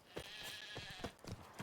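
A sheep in the Witcher 3 video game bleats in a few short, close calls across a brief stretch, with no talking.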